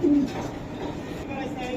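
A racer pigeon gives a short low coo at the very start, over a steady background hum, in a brief moment with a voice talking faintly nearby.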